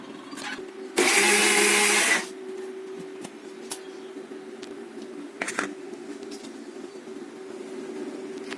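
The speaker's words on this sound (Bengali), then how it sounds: "এগুলোকে আমি পেস্ট করে নেব" A kitchen blender grinds dry fruits, coconut, cashews, raisins and chickpeas into a coarse paste, one loud, close whirring burst of about a second, with quieter clatter and background hum around it.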